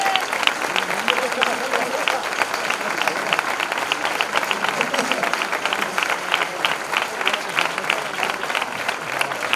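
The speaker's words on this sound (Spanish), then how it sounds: "Un aplauso." A crowd applauding a young guitarist, the speaker's son, at a town fair proclamation in Casarabonela, a sustained, even wash of clapping with crowd voices mixed in throughout.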